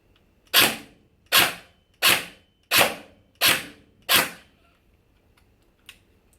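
A CELCIUS AKM training rifle, an AK-47-style training weapon, fires six loud, sharp shots at an even pace, each with a short decaying tail, followed by a faint click after the burst ends.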